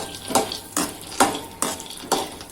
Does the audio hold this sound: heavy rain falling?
no